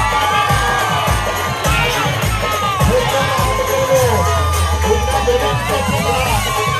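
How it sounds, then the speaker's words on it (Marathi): A crowd at a village cricket tournament prize ceremony cheers and shouts, children's voices and whoops rising over steady clapping and babble, loud and close with a low rumble underneath. "एकदा विनयासाठी टाळ्या असू द्या मित्रांनो।"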